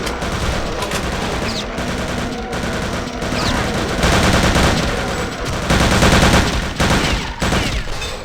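Dense, continuous gunfire from soldiers in Return to Castle Wolfenstein (2001) crackles throughout, with overlapping rapid bursts and volleys that swell louder midway, sounding like a sustained firefight.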